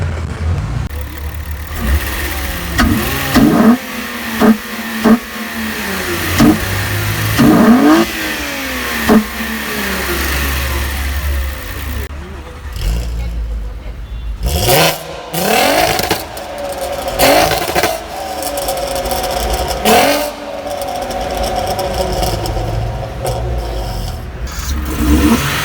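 A VW Golf VR6 with upgraded cams, aftermarket exhaust and a big filter revs repeatedly, sharp rising blips that fall back to idle, close and loud, with a longer sustained pull midway.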